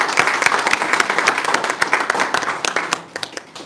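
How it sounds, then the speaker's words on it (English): Round of applause from a meeting crowd for summer camp attendees at a kickoff event, close, brisk clapping with distinct individual claps that thins out toward the end of a few seconds. "I want us to recognize you by giving you a round of applause"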